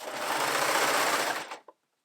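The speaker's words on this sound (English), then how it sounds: "use your overcast stitch on your sewing machine to get you a serged look without having a serger" A home sewing machine stitching knit fabric with an overcast stitch runs in one steady, loud, close whir for about a second and a half, then stops with a small click.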